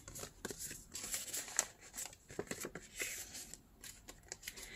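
Paper journal pages are flipped quickly, producing a quiet run of soft rustles and crisp flutters at an uneven rhythm, close and alone.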